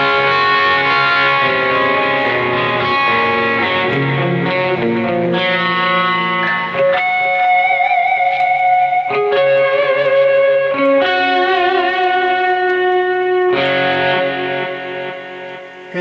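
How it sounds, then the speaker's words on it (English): Electric guitar through a Boss eBand JS-10 with delay and reverb: melodic, sustained lead phrases with echoing repeats trailing off, played alone without talk. "Hear that beautiful delay and reverb?"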